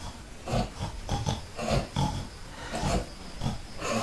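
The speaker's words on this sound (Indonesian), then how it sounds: "Babi mana? Itu babi," Pigs grunting and oinking repeatedly in short, rough bursts, close and moderately loud over a steady background hum.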